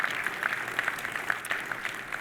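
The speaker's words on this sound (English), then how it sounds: "So please join me of giving applause to the panelists." Scattered applause for ocean conference panelists, quiet and somewhat distant, a light patter of individual claps continuing evenly without voices.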